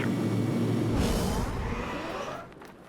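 An LC-130 ski-equipped aircraft taking off, a loud, broad engine roar that holds steady and then fades as it pulls away.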